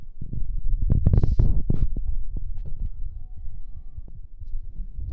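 A Co.Olympic Model 160 handheld date-coding printer runs a print pass, giving a close, steady low mechanical throb and hum with a brief brighter burst of clicks near the start, alone without talk.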